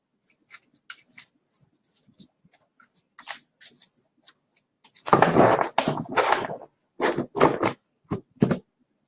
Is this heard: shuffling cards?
yes